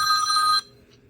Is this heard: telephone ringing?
yes